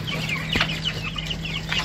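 Meat-breed chicks and chickens on a Russian homestead farm cluck and chirp in a busy, continuous chorus close by, with a steady low hum underneath.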